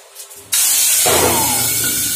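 Small tangra fish hit hot oil in a pan with a sudden loud, hissing sizzle that swells further after a moment, then settles into a steady, spitting fry, close by with no talking.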